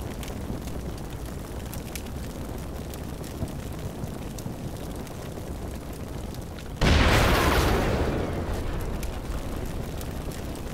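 A BTR armored vehicle blowing up in a Ukraine campaign video game mission: a single sudden, loud explosion cuts through steady battle noise partway in, then its roar slowly fades back into the din.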